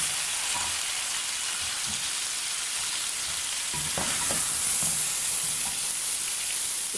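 Lahori paya fries (bhuna) in a pan with a steady, close hiss of sizzling that holds throughout, broken by faint stirring scrapes.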